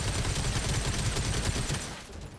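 Rapid bursts of cannon fire from a co-op mech combat video game, a dense run of booming shots that thins out toward the end, with no talk over it.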